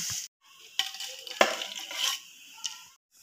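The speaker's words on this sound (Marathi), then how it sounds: "आपण गॅसचा फ्लेम मीडियम ठेवून छान अशी तळून घेणार आहे" Aloo bhujia (sev) dough frying in hot oil over a medium flame, bursts of crackling sizzle with a few sharp clinks of utensils and short silent gaps between.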